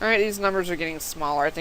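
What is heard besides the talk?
No everyday noises stand out.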